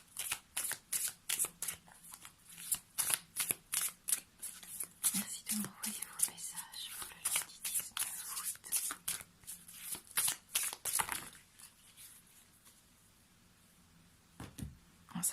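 Oracle cards shuffled for a tarot-style reading: a steady run of crisp, close riffling bursts in quick rhythm for about eleven seconds, then a quieter pause and one last shuffle, with soft whispered speech in the background.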